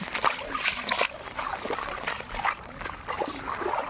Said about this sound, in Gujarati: પાણીમાં પાણીમાં ચાલવાનું છે